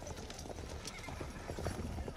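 Horse hooves clip-clop in a quick, uneven rhythm in a cowboy western film scene, heard fairly faintly under low voices and background noise.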